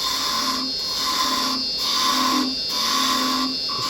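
A woodturning lathe with a carbide chisel cuts a wooden finial, giving a loud, steady machine whine with a tonal hum that swells and dips in a regular rhythm, close and without talk.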